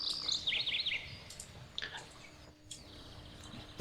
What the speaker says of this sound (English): we can hear the birds going, we can hear the river and stuff